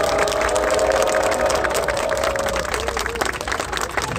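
A gathered crowd applauds in support of volunteer election monitors, a dense, continuous clapping that stays strong for a few seconds before thinning slightly, with a brief tonal voice sound early on.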